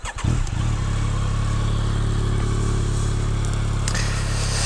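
A 2022 Yamaha Tracer 9 GT motorcycle rides on country roads in western Pennsylvania, its engine loud and steady with constant wind rush, after a brief rev at the start.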